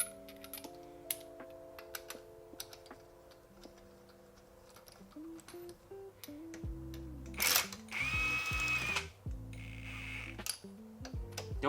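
Lug nuts on a Nissan S13 being tightened after a 5-lug swap fitting new wheels. A quiet stretch is followed by louder bursts of a power tool or ratchet whirring and clicking against the nuts, with a short metallic clatter.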